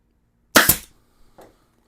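A staple gun driving staples through a cover into a 2007 Yamaha Virago 250 motorcycle seat, two quick sharp snaps close together, then a softer click, in a quiet room.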